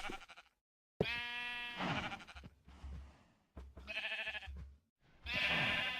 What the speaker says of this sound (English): shearing the sheep for wool